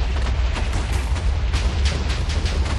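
Continuous rumbling explosions from the video game Minecraft in the Sky Factory 3 modpack form a dense, steady barrage of booms and crackles, loud and unbroken, with no talking over them.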